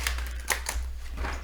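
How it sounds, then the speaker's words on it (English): A deck of tarot cards is shuffled by hand, a brief run of soft, crisp riffling clicks close up over a low background hum. "let's shuffle another deck of cards"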